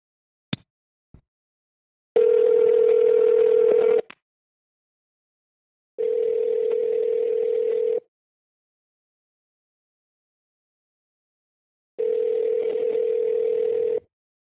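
A telephone line gives a couple of brief clicks, then a loud steady ringback tone sounds in three separate two-second bursts with long silent gaps, heard alone while a call is placed.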